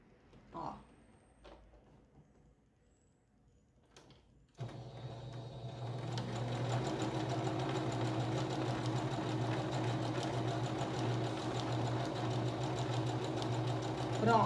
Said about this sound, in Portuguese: vamos agora passar uma costura aqui